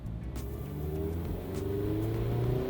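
Mazda MX5 Miata engine revving up toward 5000 rpm during a test drive, a steady rising engine drone heard from inside the car, growing slightly louder as the pitch climbs.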